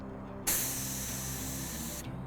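A Peperko E pepper spray aerosol canister fires one sustained, loud, close hiss lasting about a second and a half, starting abruptly and cutting off cleanly.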